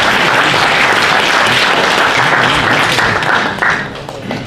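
Loud audience applause at a fortieth-anniversary celebration of a gusle players' society, dense clapping that holds steady, then thins and fades toward the end.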